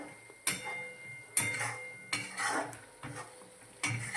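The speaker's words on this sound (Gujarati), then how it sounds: "આ રીતે બધું હલાવી દઈશું." Metal spoon scraping and clinking against a cooking pot as spices are stirred into potatoes with chili, salt and garlic, a few distinct knocks about once a second over a soft background.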